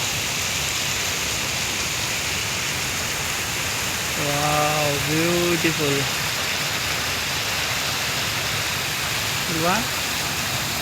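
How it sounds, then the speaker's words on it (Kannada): Water flows steadily through a village stream with a continuous broadband rush, while a voice exclaims briefly over it. "ಇಲ್ಲೆಲ್ಲ ನೀರು ಹರಿತಾ ಇದೆ ನೋಡಿ"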